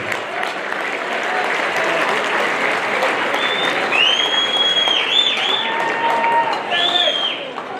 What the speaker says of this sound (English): Please join me in a round of applause and welcome Jeremy Lopez.